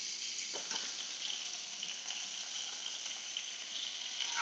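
Steak sizzling in a pan with butter and spring onion, a steady bright hiss with occasional pops, close and continuous with no talk.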